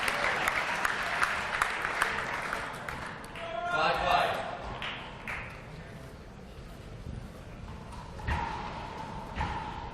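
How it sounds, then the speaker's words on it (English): A crowd at a racquetball final in a court arena breaks into applause and excited buzzing, rising and falling for several seconds, with ball thumps and a commentator talking over it. "the buzz in the crowd right now, Sean, is absolutely unbelievable."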